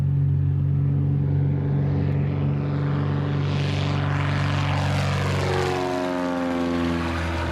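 A single-engine Cessna propeller plane with a 145-horsepower engine drones steadily up close, its low engine hum constant while a rising whine sweeps across as it passes.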